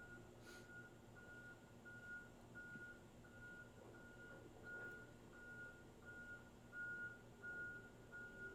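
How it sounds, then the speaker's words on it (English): A garbage truck reverses with a steady run of faint, evenly spaced electronic beeps heard from a distance over a low rumble of background noise. "It's the trash coming. You know that beeping?"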